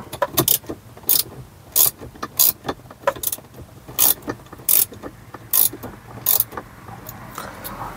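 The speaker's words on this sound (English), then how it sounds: "let me get back to you once I'm done tightening" A ratchet tool clicks in quick repeated bursts while tightening the bolts of a swivel mount for a Tesla Model 3 or Model Y screen, close and crisp with brief pauses between strokes, no talking.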